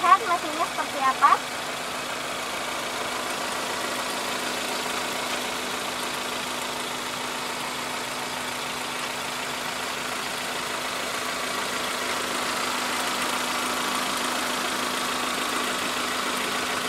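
Steady car engine idling at close range, a low continuous hum with a faint mechanical tone, following a few brief knocks at the very start; no talking.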